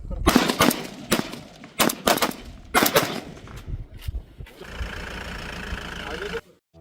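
Gunfire from BSF soldiers on the Jaisalmer border rings out in several sharp, loud bursts, followed by a steady mechanical drone that cuts off abruptly.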